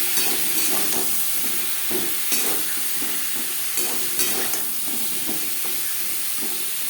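Pointed gourd (potol) seasoned with salt and turmeric fries lightly in a pan, giving a steady close sizzle and hiss with occasional stirring scrapes throughout.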